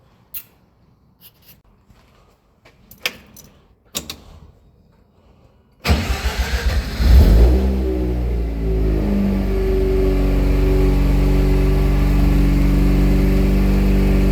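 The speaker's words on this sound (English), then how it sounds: "So I want to show you that now, and you'll get to hear that exhaust note." A Mazda B2200 pickup with a swapped 13B rotary engine and custom exhaust fires up after a few clicks and quiet knocks, then settles into a loud, steady, buzzing idle with a brief blip of revs, close by and with no talk.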